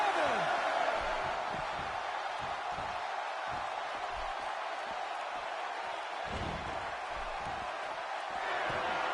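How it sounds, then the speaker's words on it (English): A broad, steady roar of an arena crowd at a SmackDown event in the WWE 2K16 wrestling video game, sustained throughout with faint thuds beneath, and no clear voices standing out. "Another electric crowd on hand here for SmackDown, as has been the norm over the years."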